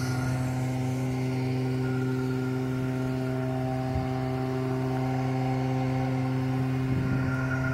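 A Tesla turbine idling at low throttle and roughly 4,000 RPM, a steady, fairly quiet hum with strong, unchanging tonal whine lines, close and continuous, with no talking.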